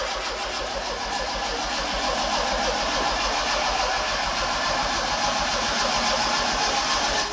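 A car engine cranks and fires up, then runs at a steady rough idle, loud and close throughout.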